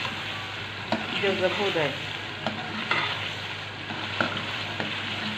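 Chicken with garlic and ginger sizzling in a pan as it is stirred, steady frying hiss with scraping stir strokes, while someone talks over it.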